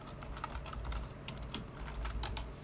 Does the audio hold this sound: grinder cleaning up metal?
no